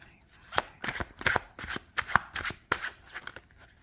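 A deck of playing cards being shuffled close by, with a rapid run of crisp riffling bursts and snaps in an uneven rhythm and no talk.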